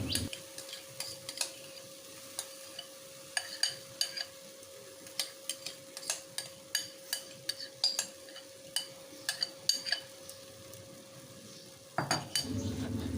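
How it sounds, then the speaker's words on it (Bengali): A raw mango mixture is stirred in a wok, with a regular series of sharp metal scrapes and clinks of the utensil against the pan over a soft background sizzle and a steady hum, no voices. "সমস্ত মিশ্রণটা কড়াইয়ের মধ্যে ঢেলে দেওয়া হয়ে গেল আর এখন একটু ভালো করে এটাকে জাল করে নেবো"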